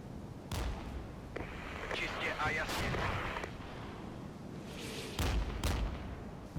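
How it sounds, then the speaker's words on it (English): Distant artillery and mortar fire in the wargame Regiments, with repeated heavy booms and rumbling impacts over a continuous battlefield din. "Make sure we counter battery the mortars some more."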